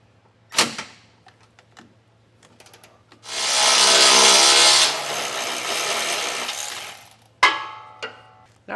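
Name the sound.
ratchet with 15mm socket removing old jounce bumper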